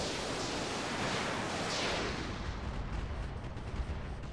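A volley of MRM missiles launches from a battle mech in Roguetech, a dense, continuous roaring rush of launches that holds steady and then slowly thins, heard at moderate loudness.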